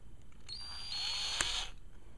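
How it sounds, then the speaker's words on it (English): An electric drill turns the adjustment on a rifle scope, giving a quiet, brief high-pitched whine that swells for about a second and then fades. "Don't use an electric drill to normally do this."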